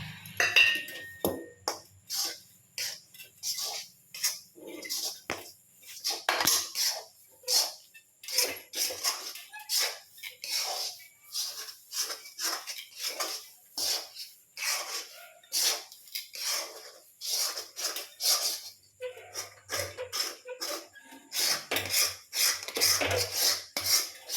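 Repeated scraping and tapping of a spatula against a pan while thick homemade ABC malt with ground almonds, cashews and cardamom is stirred, a steady rhythmic series of close, fairly loud strokes continuing throughout.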